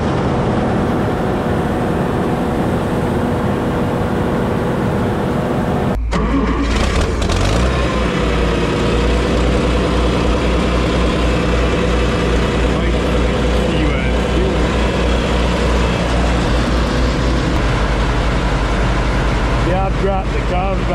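A farm truck on a harvest day fires up and then idles with a loud, steady low engine rumble that holds for over fifteen seconds, heard up close and alone with no talk.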